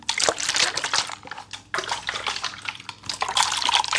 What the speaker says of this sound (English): Yes, water.